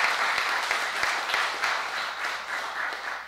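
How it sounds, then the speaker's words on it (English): An audience claps steadily in sustained applause, a dense patter of many hands throughout, moderately loud. "So just round of applause to them for everything that they did."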